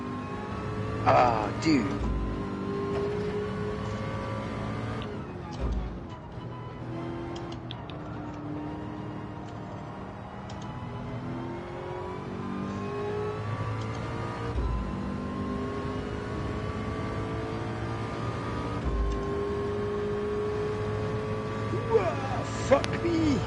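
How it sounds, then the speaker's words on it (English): BMW M6 race cars on a circuit, engine note climbing under acceleration with steady harmonic whine and intermittent gear-shift thumps, close and continuous; someone speaks briefly. "I'm sandwiched between two BMW M6s, and I'm going to out-accelerate the one in front of me"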